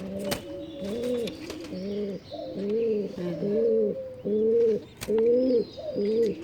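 Pigeons coo repeatedly up close in a steady rhythm of low, throaty phrases, with occasional clicks and rustles between.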